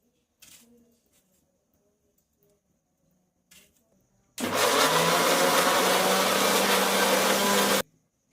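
An electric mixer grinder blends tomatoes in a loud, steady whir lasting about three and a half seconds, preceded by a few faint knocks in a quiet home kitchen.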